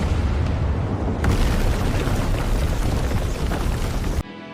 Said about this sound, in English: Episode 1 begins with an explosion in a stormy winter.